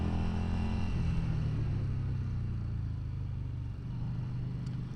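A Yamaha Bolt motorcycle under way gives a steady low engine thrum, its pitch sliding down as the revs drop, with wind rush over it and no talking.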